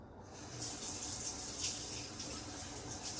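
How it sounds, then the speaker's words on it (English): A kitchen faucet runs steadily as something is rinsed off at the sink, a continuous close hiss of flowing water with slight splashing variations throughout. "I'm gonna wash this off."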